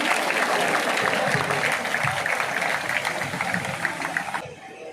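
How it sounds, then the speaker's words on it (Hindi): A crowd at a school yoga meet closing ceremony applauds loudly and steadily, the clapping carrying on for several seconds before stopping abruptly. "मुख्य अतिथि जी के लिए जोरदार तालियों से स्वागत किया जाए।"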